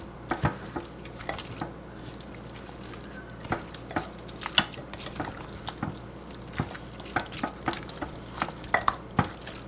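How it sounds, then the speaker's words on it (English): A spoon stirs a cheesy chicken, broccoli and rice casserole in a crockpot, giving steady wet scraping and squelching with sharp clicks against the pot, close and continuous with no talking. "We're just going to mix this together, and that cheese is going to get in there and get all melty."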